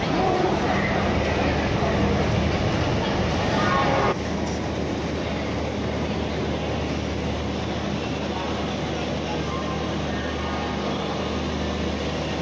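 The Kulik Express sits at a station platform, wrapped in a dense, steady rumble of rail noise and crowd hubbub. A slightly louder stretch of the same noise cuts off abruptly a third of the way through.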